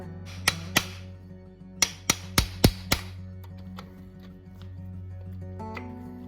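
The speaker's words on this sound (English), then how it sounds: "We just take a hammer, tap on the side of the cap," A hammer taps the main bearing caps of a small-block Chevy 355 engine to loosen them, about seven sharp metallic knocks in two quick groups, close and clear over a steady low hum.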